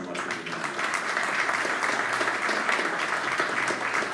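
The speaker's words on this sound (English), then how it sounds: "give yourselves a round of applause for being here" An audience at an educational talk in Piscataway, New Jersey breaks into sustained applause, a thick, even wash of many clapping hands lasting several seconds without pause.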